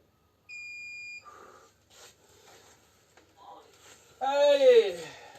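A steady electronic beep sounds once, followed by a few short voice fragments and a loud rising tone near the end.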